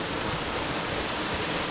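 Creek water rushes steadily over a run of cascades and small waterfalls, a loud, continuous broadband roar close by with no breaks or voices.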